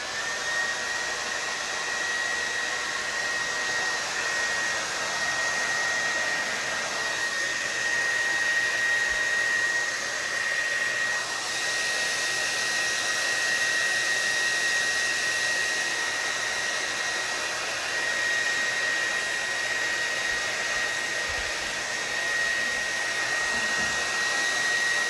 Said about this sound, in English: Okay, so this is a hair dryer.